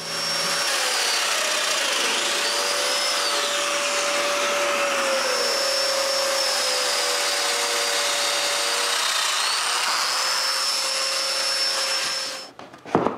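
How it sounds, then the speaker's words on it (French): A domino joiner cuts mortises into wooden workpieces for a nine-drawer dresser, its motor and attached dust extraction roaring steadily and loud for many seconds before cutting off. "je marque l'endroit où je dois percer d'autres mortaises de domino et je les perce"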